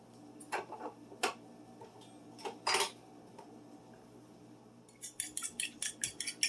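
Eggs with black pepper being whisked in a bowl: scattered clinks of utensil on dish at first, then a quick run of rhythmic metallic taps as the whisking picks up, close and fairly quiet.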